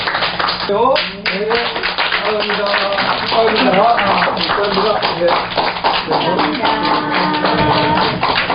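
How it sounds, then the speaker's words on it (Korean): A church congregation claps during a deacon ordination service, a sustained patter of hands heard beneath a voice speaking over it. "크게 한번 박수 한번 쳐주세요."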